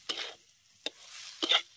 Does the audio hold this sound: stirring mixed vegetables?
yes